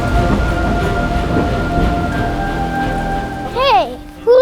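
Rain from a thunderstorm in Kansas pours in a loud, steady hiss, with a brief burst of voice near the end.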